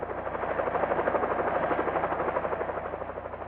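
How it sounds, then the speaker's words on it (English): A helicopter approaches a rain forest camp, its rotor thumping in a steady, muffled rhythm that rises and then eases slightly, with nothing else heard. "Their peaceful meal is interrupted by the sound of an approaching helicopter."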